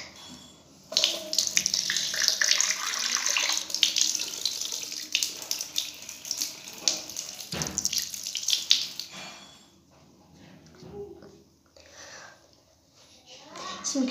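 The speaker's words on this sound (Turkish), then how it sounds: "Şimdi yüzümü yıkayacağız. Burada ses çok çıkıyor." A tap runs steadily into a sink while someone washes their face, a loud continuous splashing stream that cuts off partway, leaving quieter drips and handling noises, with a voice talking softly.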